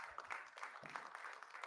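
Applause from the crowd at a UFC 308 press conference, a steady, moderately loud wash of clapping with a few brief bursts of cheering, under faint background chatter.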